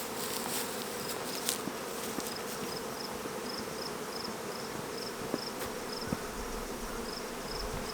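Honey bees buzz steadily around stacked beehive boxes outdoors during hive combining, a dense continuous drone near and far, with a few brief knocks and handling sounds over it.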